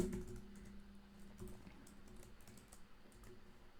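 Quiet, fast typing on a computer keyboard while writing code, a light continuous patter of key clicks at a moderate distance with no talking.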